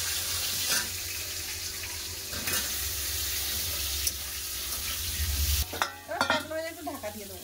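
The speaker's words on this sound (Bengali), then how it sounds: "এবার সে আমার পটল ভাজাটা হয়ে আসছে" Pointed gourd (potol) slices frying in hot oil, a steady sizzle with stirring clatter, a few sharp utensil knocks, and a louder burst of bubbling spatter near the end.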